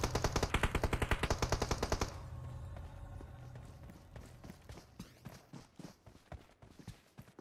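Rapid automatic gunfire in PUBG Mobile, a loud steady burst of evenly spaced shots that cuts off, followed by scattered quieter shots and footstep-like thuds.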